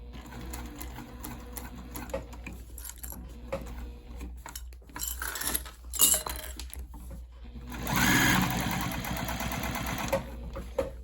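A home sewing machine stitches a zipper overlay on a backpack-style bag, whirring steadily and then speeding up into a louder, faster run near the end, close and with no talk.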